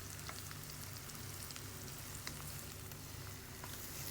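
Chopped onions and green chillies sauté in a hot pan for a broccoli rice dish, giving a steady, dense sizzle with scattered small pops and crackles throughout. No one speaks.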